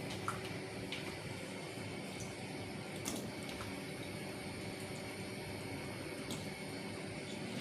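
Pot of water at a rolling boil for laswa vegetable soup, a steady, even bubbling wash with faint scattered pops and clinks, moderately close with no talk.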